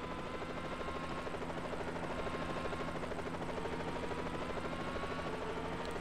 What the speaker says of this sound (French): On a un petit hélicoptère qui nous suit,